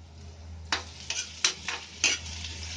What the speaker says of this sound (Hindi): दूसरी साइड में हम अपने पकोड़े तलने के लिए डाल चुके हैं